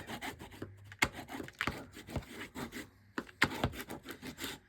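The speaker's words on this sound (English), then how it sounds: "we always burnish our tape" Paper tape being burnished down along a paper book spine: close, irregular rubbing and scraping strokes with a few sharper taps, fairly quiet and without speech.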